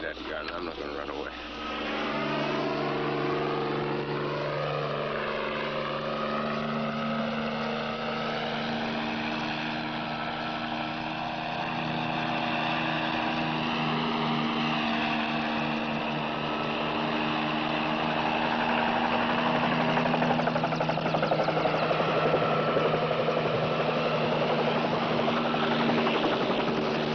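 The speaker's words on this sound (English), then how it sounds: "Chopper's coming back for us." A helicopter drones continuously and steadily louder as it approaches, its engine whine and rotor hum sustained throughout, with people talking over it.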